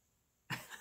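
A person coughs once, a single abrupt, fairly loud burst that trails off briefly, alone with no talking.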